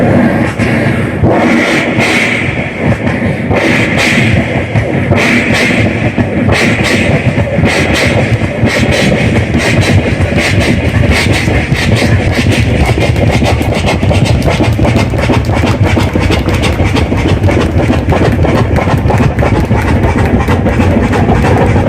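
A voice imitates a coal-fired steam train, producing a loud, unbroken stream of chuffing and hissing that runs throughout without pause.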